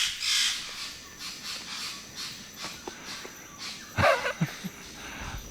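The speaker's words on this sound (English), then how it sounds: "And sure enough, the birds make themselves heard." Birds call in a Borneo jungle at dawn, with a cawing, crow-like call sounding repeatedly from fairly close over steady insect hum, plus a louder burst of calls near the end.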